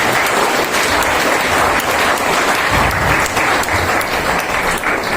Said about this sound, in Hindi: हम उनका तालियों से स्वागत करते हैं